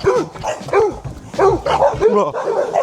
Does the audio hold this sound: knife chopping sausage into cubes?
no